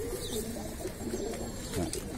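A pigeon coos softly nearby, a low throaty rolling call repeated a few times over faint background noise.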